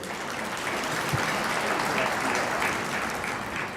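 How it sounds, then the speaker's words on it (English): A conference audience of municipal officials gives a sustained round of applause, dense and even clapping filling the room from start to finish. "I'd like you to give yourselves a round of applause"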